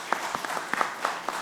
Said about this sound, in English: I'll give a round of applause to all three of them